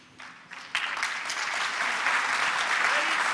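Audience applause breaks out at the Startup Istanbul 2014 final pitches for a pitch presenter from Pakistan. It starts faintly, then swells into full, dense, steady clapping from a large crowd that carries on to the end.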